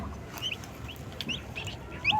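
Hens, chicks and turkeys cluck and peep in a busy farmyard, with scattered high chirps over a steady low background murmur.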